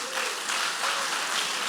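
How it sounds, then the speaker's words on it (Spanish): A church congregation claps together in a brief, steady burst of dense applause that fills the room at an even level. "qué rápido que aplauden ustedes"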